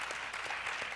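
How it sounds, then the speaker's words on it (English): Audience applause at an education summit panel, a short burst of steady clapping from a room of listeners. "Give the brother a round of applause."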